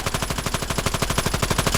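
Rapid automatic fire from a PDW-57 submachine gun in the mobile game Call of Duty Mobile, a steady unbroken burst of evenly spaced loud shots with no talking.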